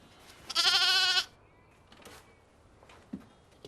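Lambs without mothers bleating at feeding time on a farm, one loud, close, wavering bleat lasting under a second, followed by faint shuffling and a soft knock.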